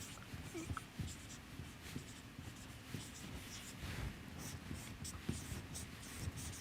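Pen or marker writing during a lecture, with soft, faint scratching strokes that keep going steadily in a quiet room.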